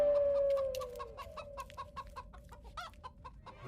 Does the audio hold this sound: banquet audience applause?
no